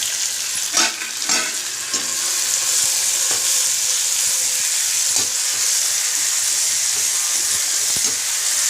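Tomatoes and manathakkali greens sauté over low heat in a pan, a close, steady sizzle and hiss with occasional clinks and scrapes of stirring.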